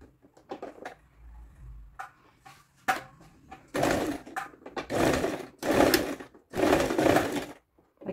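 Sewing machine stitching fabric for a doll's witch hat, running in several loud bursts of a second or so each, separated by short pauses and light handling sounds.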